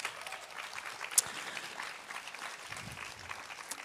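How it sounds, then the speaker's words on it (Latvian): A seated audience at a youth political ideas event claps in steady, fairly faint applause heard from a distance, with no voices over it. "Aplausus lūdzu."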